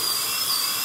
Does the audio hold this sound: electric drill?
yes